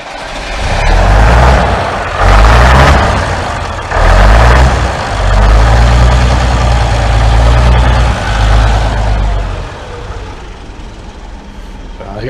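A Leyland Leopard bus with a Leyland 680 diesel engine and freshly fitted batteries is being started, giving repeated loud cranking bursts with a deep, bassy rumble that finally settles into a heavy engine sound.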